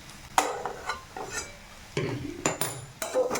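Potato mixture with chopped coriander is stirred and fried in a pan, a few scraping spoon strokes and clinks against the metal over a light sizzle, close and moderately loud.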